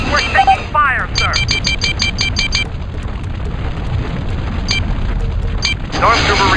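Heavy booming blasts of incoming fire rumble through the battle in the Star Wars: Force Commander game, a continuous dense roar with brief chirping unit effects at the start and end.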